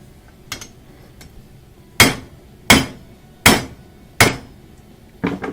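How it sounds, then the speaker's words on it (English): Five loud, ringing hammer blows on hot forge-heated metal at a steady pace, followed by a few lighter taps, with no talking. "Hot again, so we'll do a little more hammering."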